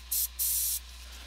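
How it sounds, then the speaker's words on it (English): A Badger airbrush spraying paint onto a half-scale bust gives two short, close hissing bursts, the second longer than the first, over a low steady hum. "I'm gonna spray some of this on the lips too"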